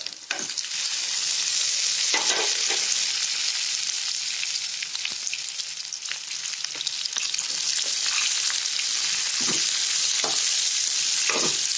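Onions frying with brinjal in a pan for Andhra-style brinjal chutney, a loud, continuous close-up sizzle with scraping stirs and brief clinks throughout.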